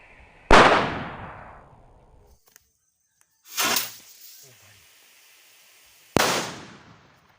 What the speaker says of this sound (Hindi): रॉकेट के साथ एक पटाखा भी लगा हुआ है